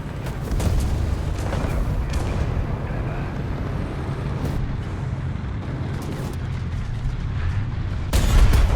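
A Finnish T-34-85 tank in War Thunder fires its cannon amid the game's constant low rumble of engines and battle, with heavy booming blasts near the start and again loudly near the end.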